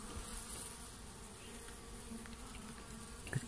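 Dwarf honey bees give a continuous, close, steady buzzing hum while being caught by hand from their nest, with no talk over it.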